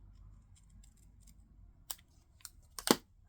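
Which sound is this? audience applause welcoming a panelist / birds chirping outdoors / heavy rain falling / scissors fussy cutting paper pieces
scissors fussy cutting paper pieces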